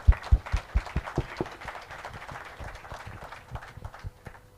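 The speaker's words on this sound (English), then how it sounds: "So, round of applause for all the women." Conference audience gives scattered, uneven applause, a few sharp close claps at first, then thinner clapping that fades out.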